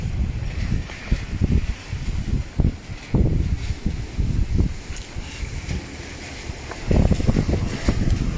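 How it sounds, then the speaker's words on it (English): Storm Eunice winds buffet and roar through moored boats at Ilfracombe, with low rumbling thumps and a faint airy whistle throughout, no voices. "when the wind really gets going, it makes one great noise as it rips through the boats."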